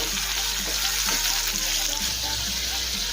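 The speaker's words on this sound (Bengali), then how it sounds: "তেলের মধ্যে এখন দেবো কেটে রাখা আলু।" Potatoes coated in turmeric and salt fry in hot oil, a loud close steady sizzle running without pause.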